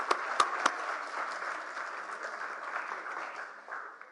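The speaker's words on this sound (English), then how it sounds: "Let's give her a round of applause, ladies and gentlemen." An audience at a youth pre-teen talent competition final applauds, with a few sharp claps up front and then a sustained, fairly distant wash of clapping that slowly fades.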